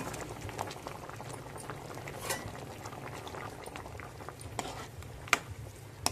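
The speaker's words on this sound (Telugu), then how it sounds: "పులుసు మరుగుతుందండి, ఎండు చేప ముక్కలు వేస్తుంది." A pot of egg and dried fish curry bubbles on the stove, soft steady simmering with scattered pops and a few sharper clinks near the end, fairly quiet and close.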